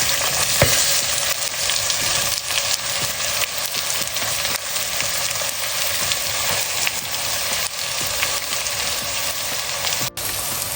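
Onion frying in a pot for cauliflower tomato kurma sizzles loudly and continuously up close, with stirring scrapes throughout and no talk.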